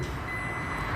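A newly bought car sounds steady, continuous reversing beeps as it is put into reverse.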